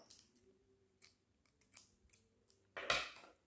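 Scissors snipping through crochet yarn while finishing a round of an oval crochet rug: a few light clicks, then one loud, crisp cut near the end, with no talking.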